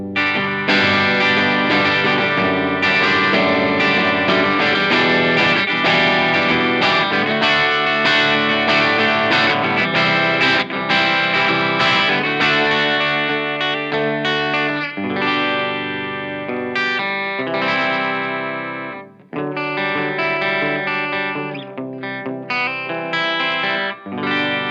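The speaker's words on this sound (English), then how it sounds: "here's a Marshall Clean sound for you for comparison" A Mario Martin "El Chupacabra" electric guitar played through a Marshall amp on its clean channel: full, ringing chords and lines sustain continuously and loudly for about 25 seconds, with a brief dip near the 19-second mark.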